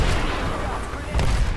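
Grenades explode in the Apex Legends video game over a dense wash of gunfire and battle noise, with a heavier burst of blasts near the end.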